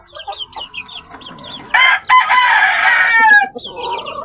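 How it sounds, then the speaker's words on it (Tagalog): Chickens and chicks on a poultry farm cluck and chirp in a busy flock, with a rooster crowing loudly through the middle, close and without talk. "magbibigay tayo ng mga pagkain dito sa mga alagang sisiw natin"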